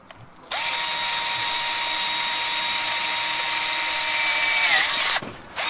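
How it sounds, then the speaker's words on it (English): A power drill drilling through metal whines steadily at high speed for several seconds, loud and close, its pitch dipping slightly near the end before cutting off. "There we go, I actually drilled all the way through."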